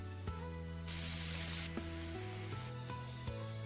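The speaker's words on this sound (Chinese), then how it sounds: "然后再加入200毫升清水" Water splashed into a hot pan of frying pancakes made from wonton wrappers and glutinous rice bursts into a bright sizzle for under a second, over a steady electric hum with occasional clicks.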